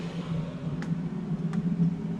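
A ventilation fan for a smoking room runs with a steady low mechanical hum that drones without pause, quiet and even, with two faint clicks over it.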